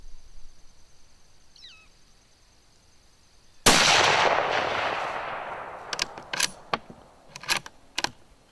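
A rifle fires one loud, sharp shot at an outdoor range, its report ringing out and decaying over several seconds, followed by a handful of short clicks and clacks close by.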